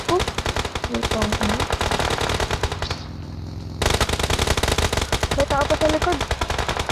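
Rapid automatic gunfire in a shooting video game, loud continuous bursts with a short pause midway before firing resumes, with players talking over the shots.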